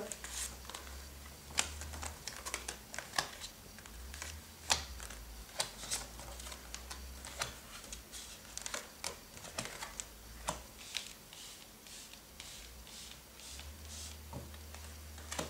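Playing cards dealt one by one after the cut during a card reading: a run of sharp, light snaps and flicks at an uneven pace, close by, over a steady low hum.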